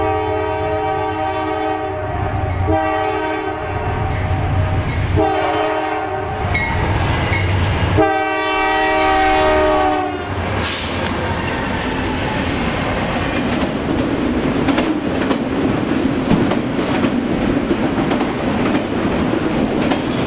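A Norfolk Southern freight train, NS 287, rolls past heading west with loud, sustained horn blasts, first in repeated bursts and then one long blow, before the steady rumble and clatter of the cars takes over.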